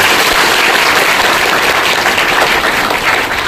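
Loud, steady applause from a school audience at a Teachers' Day celebration at Harichandanpur Government Girls High School, dense clapping sustained throughout without a break.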